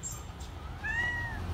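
A cat indoors gives a single short, rising meow at moderate distance. The meow comes partway through, with faint room noise before and after it.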